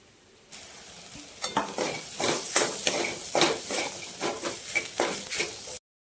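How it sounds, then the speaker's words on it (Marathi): Cumin powder, salt, homemade masala, red chili powder and turmeric sauté in oil in a pan, with a steady sizzle and repeated scraping stirs of a spoon against the pan, close and fairly loud. "आता ह्याला चांगलं तेल सुटेपर्यंत आपण परतून घेऊयात"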